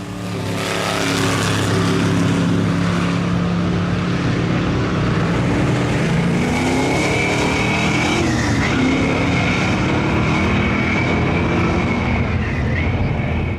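A drag racing car runs down the quarter-mile strip: a loud, sustained engine roar fills the whole stretch, with a steady high whine rising and dipping as it runs at full power.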